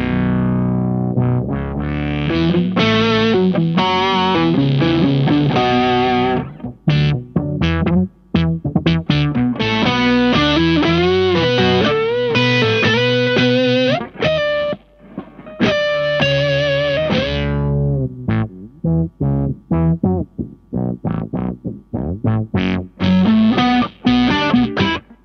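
Boss SY-200 synthesizer pedal with its expression control set all the way down, playing a dense, distorted synth line with a steady rhythm that drops into choppy stabs toward the end, loud and alone without talk.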